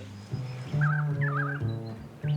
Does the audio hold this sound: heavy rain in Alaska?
no